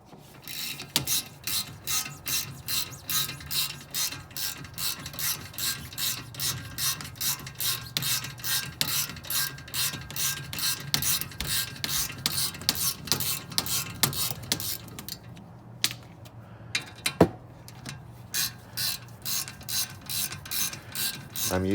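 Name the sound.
fine tooth ratchet clicking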